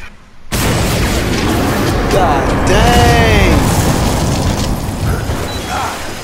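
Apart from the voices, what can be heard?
explosions in a video game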